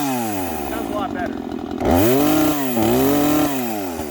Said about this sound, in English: I mean, Meg, have I used this saw or what?